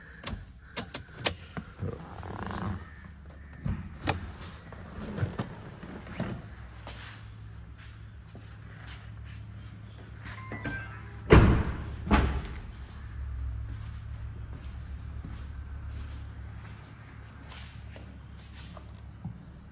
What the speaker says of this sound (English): Let me open the fuel tank lid so you guys can see.